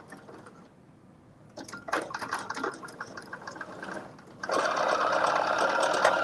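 Sewing machine stitching a straight seam on a McCalls 8037 garment, starting in short bursts and then running steadily and loudly, close up with no talk.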